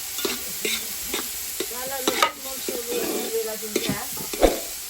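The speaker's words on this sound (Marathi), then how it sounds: "कांदा मस्त परतून घे लाल होऊ दे मग त्याच्यात टाकू" Onions stir-fried in a pan until browned for an Agari-style chicken dish: a steady close sizzle runs throughout, broken by repeated spatula scrapes and stirring knocks.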